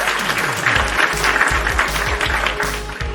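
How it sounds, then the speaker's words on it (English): An audience applauds a podcast guest on a wrestling talk show, steady dense clapping throughout, with a low hum beneath and a voice briefly breaking through. "Round of applause."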